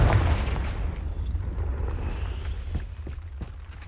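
Confringo fire spell blast in Hogwarts Legacy, a heavy booming burst that opens loudly and then fades into a rumbling tail with a few faint crackles.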